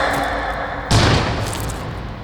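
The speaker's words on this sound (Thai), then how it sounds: "เสียงปืนครั้งที่สามดังขึ้น" A single sharp gunshot booms out with a deep thud and a short decaying echo, loud and nearby.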